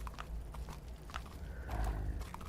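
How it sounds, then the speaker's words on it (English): Horse hooves clip-clopping in the video game Dune Awakening, a faint, uneven patter of light knocks over a low rumbling game background. "Is there a horse outside?"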